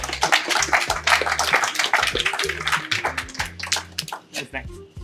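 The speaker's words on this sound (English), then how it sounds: "Hey, big applause." Audience applause at a gathering of entrepreneurs, a brisk flurry of hand claps from a small nearby group, with people talking over and around it.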